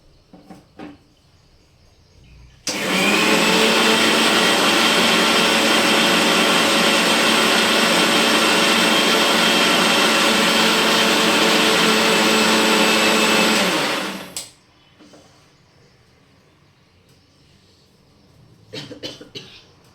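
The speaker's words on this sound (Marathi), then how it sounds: "आता ते बारीक दळून घेते मिक्सरला" A mixer grinder grinding a paste with a little added water roars loudly for about eleven seconds, starting and stopping abruptly, with quiet handling noises before and after.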